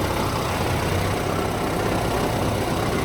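A 2013 Volvo EC160DL excavator with 5,900 hours runs steadily, its diesel engine giving a loud, close, continuous low rumble and drone without talk.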